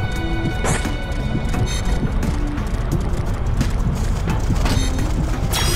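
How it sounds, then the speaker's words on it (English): A thunder attack effect from the Xenoblade Chronicles video game rumbles loud and continuous, a dense crackling roar with a sharp burst near the start and scattered bright hits over a steady low boom. "Roaring thunder!"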